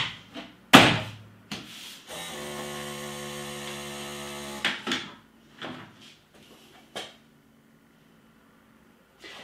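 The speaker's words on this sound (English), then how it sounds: "close the doors." The plastic doors of a Philips PerfectDraft home beer machine swing shut with a sharp slam, followed by a steady mechanical hum for a few seconds, then a string of clicks, knocks and latching thuds before falling quiet.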